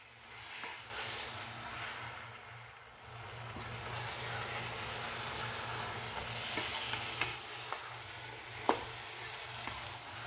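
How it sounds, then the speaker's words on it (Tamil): Country chicken sautéed with biryani masala in oil gives a soft, continuous sizzle with occasional spoon scrapes and taps, fairly quiet and close, with no talk. "இப்போ இதையும் நம்ம மசாலாவோட நல்லா வதக்கிக்கலாம்."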